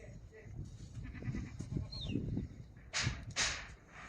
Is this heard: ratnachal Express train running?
no